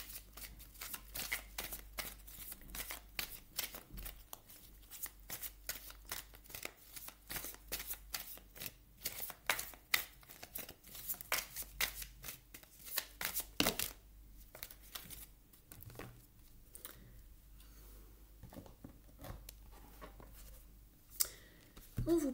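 Tarot cards being shuffled by hand, with rapid, close-up riffling and flicking that repeats almost without pause and thins out toward the end.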